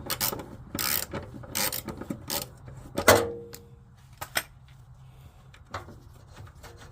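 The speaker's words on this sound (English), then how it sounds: "I'm using the bolt extractor to back it out now." Bolt extractor backing a stuck bolt out of a Nissan Frontier, heard as a quick series of metallic ratcheting clicks, then a sharp creak and sparse faint clicks.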